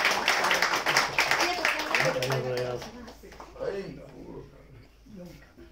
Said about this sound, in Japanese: お二人に拍手をどうぞ。